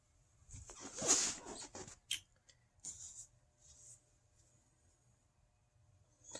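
A brown Sharpie marker scratches in short, faint strokes while the Mexican flag emblem is drawn by hand, with quiet pauses between bursts and no talking.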